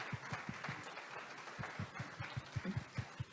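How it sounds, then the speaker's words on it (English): An audience claps for a speaker at a community event on Black history, with faint, scattered applause and uneven claps carrying softly across the room. "how about just a round of applause for our speaker?"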